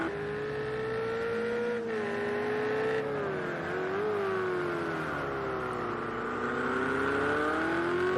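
Corvette GTE race car lapping the Circuit of the Americas track, its engine holding a loud, steady drone that rises and dips through gear changes and corners across the whole stretch, with no voices.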